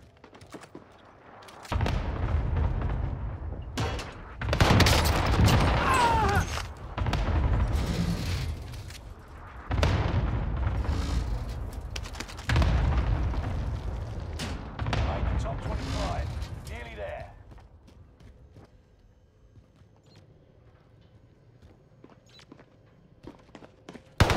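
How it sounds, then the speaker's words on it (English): A cluster strike airstrike in Warzone on Rebirth Island: a series of heavy, booming explosions in separate rolling waves, each lasting a couple of seconds, then fading to quiet. Game voice callouts are heard. "Cluster strike is active."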